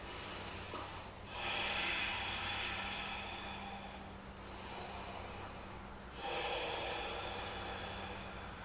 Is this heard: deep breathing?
yes